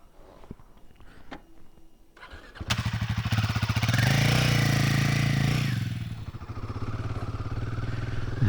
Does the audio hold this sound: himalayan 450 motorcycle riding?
yes